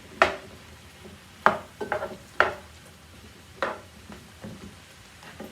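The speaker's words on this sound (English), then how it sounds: "Then we're going to mix that up pretty well." Vegetables, sliced yellow squash and zucchini, being stirred together in a dish, giving several sharp scraping clacks of a utensil against the dish at irregular intervals, close and fairly clear, with no talking.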